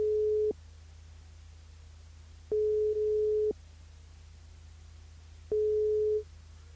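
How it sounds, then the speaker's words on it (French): A telephone line tone sounds while a French live radio game show calls a listener: three steady single-pitch tone bursts with pauses between them, alone over a low, constant hum. "on appelle Monique dans le jeu Le Nid Allô"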